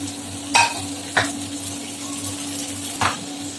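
Green chili and tomato fry in a pan for paneer gravy, a low steady sizzle broken by three sharp clinks of a spoon against the pan, with no talking.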